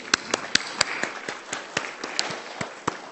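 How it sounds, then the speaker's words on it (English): Faint, scattered applause from a small conference audience: a dozen or so sparse, sharp claps at an uneven pace. "Could we have a proper round of applause, please?"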